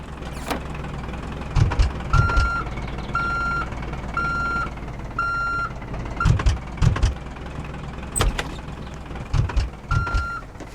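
Repeated reversing beeps from a vehicle in the Roblox video game, steady evenly spaced tones over a low engine hum, with occasional thumps and knocks in between.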